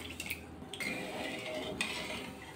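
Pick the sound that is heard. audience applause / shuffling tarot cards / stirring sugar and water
stirring sugar and water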